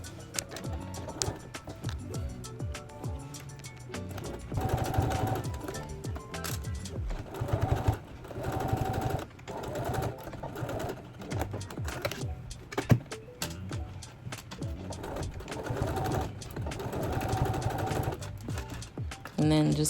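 A sewing machine stitches the boxed corners of a bag lining in quick bursts of rapid mechanical rattling, separated by short pauses, with a voice talking over parts of it.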